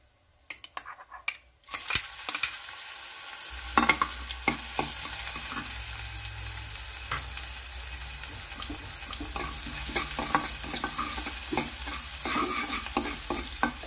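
Cumin, asafoetida and green chili sizzling in hot oil in a pan over low gas for a samosa filling, a steady close hiss that builds after a short quiet start, with scattered clinks and stirring scrapes throughout.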